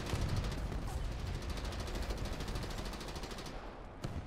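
Rapid automatic fire from the twin 40mm cannons of an M19 in a tank battle video game, a dense steady stream of heavy thumping shots that runs for about three and a half seconds, then stops before one last burst near the end.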